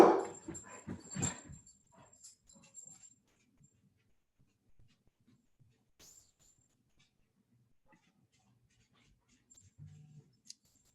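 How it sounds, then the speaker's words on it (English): A dog across the road gives a quick burst of barks and whimpers, fairly close and loud at first, then fades into near silence with a couple of faint sounds near the end. "There's a dog barking across the road."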